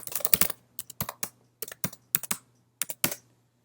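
Password being typed on a computer keyboard: bursts of quick, close keystrokes in short clusters with brief pauses between them, no voices.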